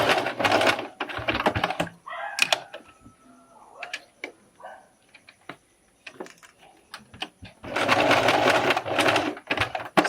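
A sewing machine stitches a curved seam on a corset toile in short bursts at the start and end, with quiet ticking handling sounds in between.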